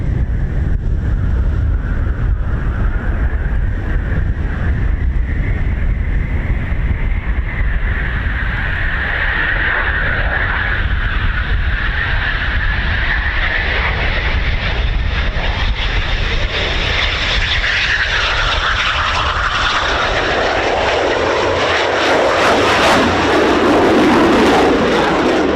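A Eurofighter Typhoon FGR4 jet making a touch and go at night at RAF Coningsby, a loud sustained engine roar with a shifting whine that swells near the end.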